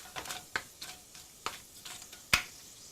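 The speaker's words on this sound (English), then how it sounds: "Give it a quick stir" Spices stirred into a braising sauce for pork belly, with a few soft scrapes and light clicks of a spoon over a faint sizzle.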